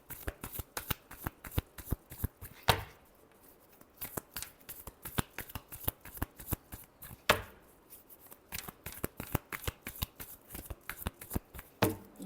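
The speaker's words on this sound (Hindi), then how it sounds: "Last shuffle." Tarot cards shuffled by hand nearby make steady papery riffles and slaps in a brisk repeating rhythm, with a couple of fuller cascades standing out.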